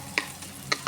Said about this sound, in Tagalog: Lagyan na natin itong 2 pirasong laurel saka yung bawang. Gisahin natin siya ng 2 minutes.